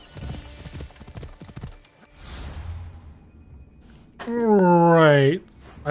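Hooves of a stolen horse clip-clop in a video game, mixed with talk and swishing movement, followed by a loud, close neigh near the end.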